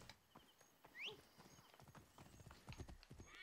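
Horse hooves clip-clop in the video game Assassin's Creed Origins, quiet rhythmic footfalls at a walking pace with a brief whinny-like chirp and light ambient game sounds.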